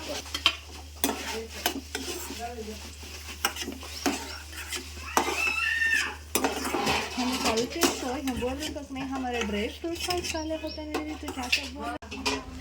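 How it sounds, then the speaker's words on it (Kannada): Cashews and almonds roast in ghee while being stirred, a soft sizzle under repeated scraping and clattering strokes in the pan. A person talks over much of it, and faint bird chirps sound in the background. "ತುಪ್ಪದಲ್ಲಿ ಗೋಡಂಬಿನ ತೇಲಿಸ್ಕೊಳ್ಬೇಕು"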